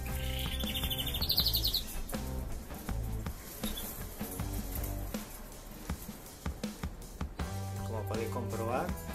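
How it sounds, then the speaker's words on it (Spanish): Show canaries kept by a champion breeder sing in bright chirping bursts, with a louder trill early on, over a busy indoor background with clattering sounds. "Aquí podéis apreciar algunos pájaros que he sacado este año"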